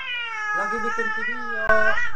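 A cat meows loudly and close by, a long drawn-out wavering cry followed by a sharper, higher second yowl after a short click, with no other sound competing.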